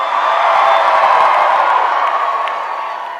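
A large crowd cheers and whoops at a Hillary Clinton early vote rally in Charlotte, a loud, steady roar of voices that holds and then slowly fades.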